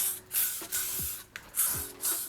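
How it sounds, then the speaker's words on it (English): Hairspray spritzed close on long, fine, wand-curled hair: a run of sharp, hissing aerosol bursts, about five of them in quick succession. "one final spritz of hairspray."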